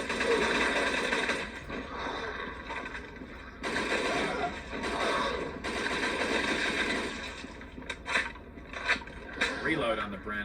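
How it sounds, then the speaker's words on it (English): Bren light machine gun from the Dead Trigger video game rattling in sustained bursts, loud and dense, with short gaps and a few sharper shots near the end, no talk in between. "Reload on the Bren is also pretty quick. But yeah, high damage weapon. Can't go wrong with light machine gun."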